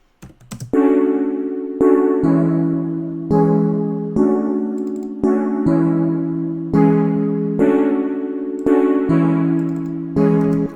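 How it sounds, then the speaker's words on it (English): Bright glassy piano synth chords layered with a pad, struck in a steady sequence, each note ringing with a shimmering, bell-like tone before the next begins. "the glass piano sounds like this"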